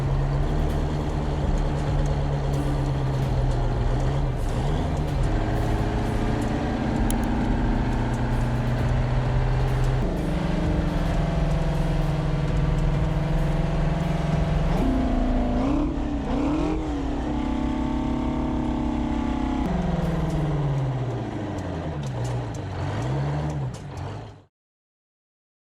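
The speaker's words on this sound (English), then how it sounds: "A museum steam engine, the flywheel wakes up." A century-old museum steam engine runs with its flywheel turning, giving a loud, continuous mechanical drone whose pitch rises and falls in steps before it stops abruptly near the end.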